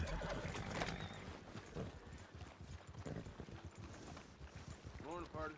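A horse in a video game whinnies loudly near the end while hooves clop steadily throughout, with someone talking over the sounds.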